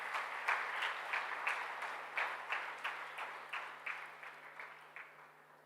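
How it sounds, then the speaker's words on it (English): Audience applause at a university inauguration of first-year BBA, B.Com and B.Sc classes, a steady wash of many hands clapping that slowly fades, heard at a distance and fairly faint. "Please welcome him with a big round of applause."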